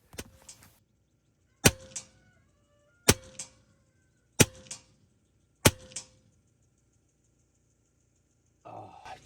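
.30 caliber Max Air 2 semi-automatic airgun firing four sharp, evenly spaced shots, each a crisp crack with a short ringing tail, followed by a faint shuffle at the end; close, no talking.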